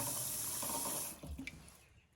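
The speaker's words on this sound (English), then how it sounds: "next, you're going to want to put cold water into the bowl" Cold water from a kitchen tap rushes into a bowl, a loud, steady hiss that cuts off partway through, followed by a few faint drips and clinks.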